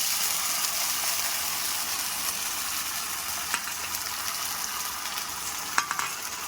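Paste of tomato, green chili, ginger, garlic and onion frying in a hot wok, a steady close hiss of sizzling oil throughout with a couple of faint clicks near the end.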